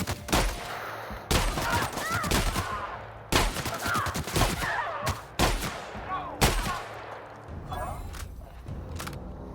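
Shotgun blasts from the sci-fi video game The Outer Worlds, several loud sharp bursts spaced a second or two apart with ringing decay, over game ambience and a voice talking.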